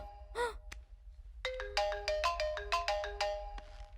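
A mobile phone ringtone plays a quick, bright electronic melody of rapid tones, close and clear, after a brief caw-like chirp.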